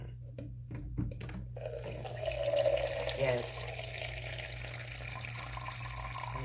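Water runs from a household tap in a steady stream, starting after a moment of brief talk and continuing alone at moderate volume with a low background hum.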